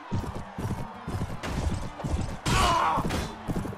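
A horse gallops in Mount & Blade Warband, a near, steady run of clip-clop hoofbeats in quick rhythmic bursts, with a louder crashing thud partway through.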